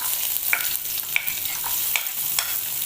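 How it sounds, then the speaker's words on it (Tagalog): Meat for batchoy is sautéed in a pan, a continuous close sizzle marked by a few sharp utensil clicks at irregular intervals, with no one speaking. "Ang susunod natin, gigisahin na natin yung ating karne."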